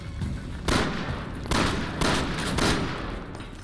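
Four heavy, booming gunshots from Resident Evil 6, spaced roughly half a second to a second apart, each a loud blast over constant background rumble.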